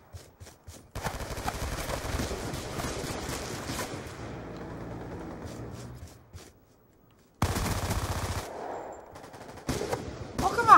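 Call of Duty Black Ops II gunfire comes in dense, rapid automatic bursts, stopping into near silence, then returning in loud volleys with a sharp final shot.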